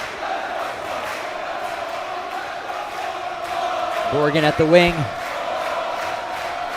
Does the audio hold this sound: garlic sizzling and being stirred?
no